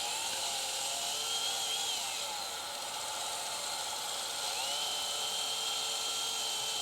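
A chainsaw with a steel chisel chain cuts kerfs into wood while furniture is being made, a loud continuous high-pitched whine with slight rises and dips in engine speed, close and unbroken.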